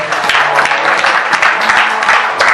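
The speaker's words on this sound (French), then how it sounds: "Nous acclamons très fort." A church congregation applauds loudly and steadily, a dense wash of many hands clapping close by for a couple of seconds.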